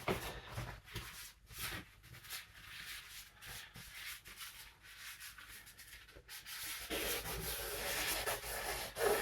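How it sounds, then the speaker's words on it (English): A folded kitchen towel rubs and wipes across a wet oil-paint landscape on canvas, making repeated soft scrubbing strokes in bursts, close and fairly quiet, with no one talking. "I'll do a spot of wiping away with kitchen towel."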